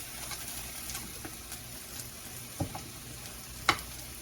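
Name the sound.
potatoes frying in oil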